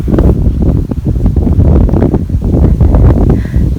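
Loud, blustery wind buffets the microphone with low rumbling gusts, constant and close throughout.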